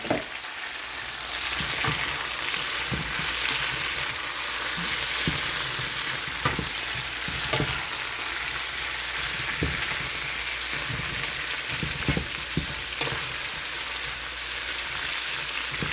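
Orange sweet peppers and Roma tomatoes frying in a pan, a loud, steady sizzle with occasional stirring clicks and scrapes throughout, no talking.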